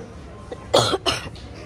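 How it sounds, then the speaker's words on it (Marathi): Two sharp, close coughs in quick succession, a person coughing while shopping for clothes in a store, with a faint murmur of the shop around them. "खोकला आला काय यार, आत्ता खोकला आला."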